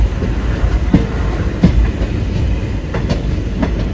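A moving passenger train just out of Daund station rumbles steadily from inside, with rhythmic clacks of wheels over rail joints and no voices.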